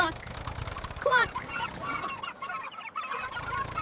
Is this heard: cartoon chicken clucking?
yes